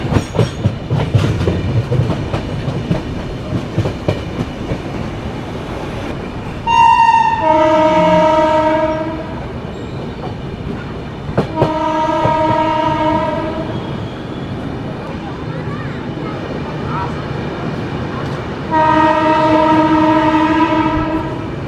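The Patna Duronto Express rolls past Bardhaman Junction with a steady rumble and wheel clatter, its horn blaring loudly three times in long blasts over the running noise.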